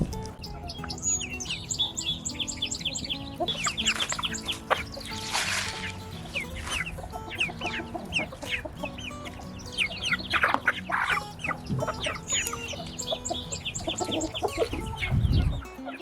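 Many chickens cluck and chirp together without pause, close by and busy, with some louder squawks scattered through the clip.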